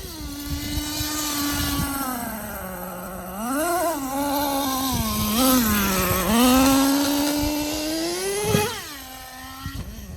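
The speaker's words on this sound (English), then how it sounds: "as I let out the gas, it's opening the throttle really slow right now because the battery's about to die" An engine revs sluggishly as the throttle opens slowly with the battery nearly dead, giving a droning whine that rises and falls in slow, wavering swells, steady and moderately loud throughout.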